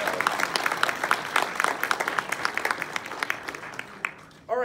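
Audience applause at a PAX South 2019 panel on autism in media, a steady wash of many hands clapping at close range that carries on for several seconds and then breaks off abruptly near the end.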